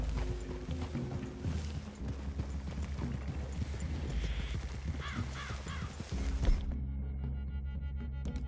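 Steady clip-clop of horse hooves plods along at a walking pace, moderately close, with crows cawing faintly in the background, in Red Dead Redemption 2.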